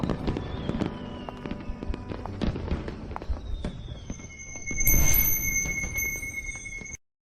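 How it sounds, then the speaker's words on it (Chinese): Fireworks pop and crackle in rapid, irregular bursts, then high whistling rockets shriek over a louder rush before it stops. "以后在我人生重要的日子，一定要有人为我放烟花"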